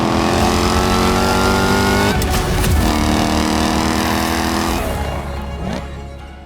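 A loud, throaty V8 engine in a Jaguar converted to manual transmission revs hard, pitch climbing then dropping as the driver shifts, the exhaust roaring close by.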